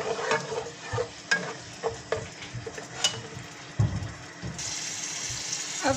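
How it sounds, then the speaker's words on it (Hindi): Three-tomato paste frying in hot oil for a fried chicken biryani gravy, giving a steady close sizzle with repeated scraping and stirring knocks in the pan and no voices. "ऑयल गर्म हो चुका है, टमाटर 3 टमाटर का मैंने पेस्ट बनाया है,"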